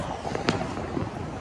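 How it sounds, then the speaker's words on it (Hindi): Diwali firecrackers set off by neighbours pop in the distance, one sharper bang standing out over a steady hiss of background noise and faint voices. "ये देखिए, लोग भी पटाखे चला रहे हैं,"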